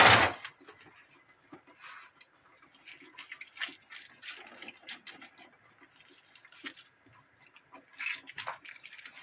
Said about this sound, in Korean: 이렇게 해서 물기를 쫙 짜줘요.